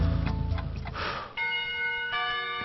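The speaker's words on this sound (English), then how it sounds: "The bell to signal the beginning of lunch rings out." A school bell rings to mark the start of lunch in the Katawa Shoujo visual novel, a sustained bright metallic ring that starts abruptly, holds steady, then strikes again with a fresh tone near the end, with no talk over it.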